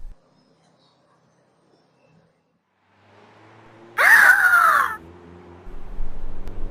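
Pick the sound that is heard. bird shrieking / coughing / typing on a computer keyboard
bird shrieking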